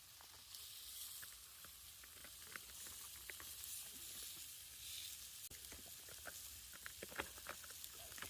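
Rice frying in a stir fry on a camp stove while boondocking, a steady soft sizzle with scattered crackles and pops running throughout, fairly quiet.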